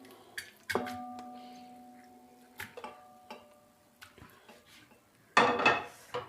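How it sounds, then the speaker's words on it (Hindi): Metal pressure cooker clanks and clatters a few times in a quiet kitchen as goat intestine is added, one ringing clang lingering, then a louder rattle of metal near the end. "सबसे पहले मैं अपने प्रेशर कुकर में ओजरी डालूँगी।"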